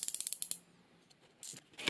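Cardboard packaging of a silver Logitech G413 mechanical gaming keyboard is torn open: a quick run of sharp ripping clicks, a pause, then more loud tearing bursts, close up with no talking.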